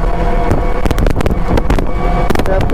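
Loud, rushing wind buffets past as an electric bike moves quickly at about 35 to 37, with gusty roaring bursts and a low rumble throughout.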